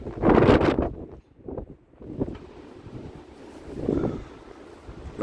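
Strong storm wind howls across an open area in Limburg, Netherlands, where the trees stand bare, blasting in loud gusts against the microphone and then easing into a lower, rushing roar.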